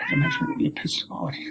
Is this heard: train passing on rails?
no